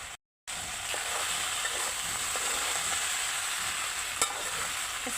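Mixed vegetable curry, cooked without water, frying in a pan after a spoonful of ghee goes in: a steady close sizzle with light stirring clicks and scrapes, after a very brief silent gap at the start.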